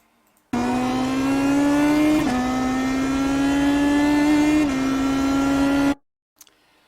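Race car engine in a racing game on the Barber track, a loud steady tone rising under throttle through two quick gear shifts, then cutting off abruptly.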